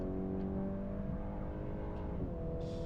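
A 2025 VW Golf R hot hatch with a four-cylinder engine pulls hard in fourth gear at high speed on the Autobahn, its engine droning and rising steadily in pitch from inside the cabin, with a brief shift near the end.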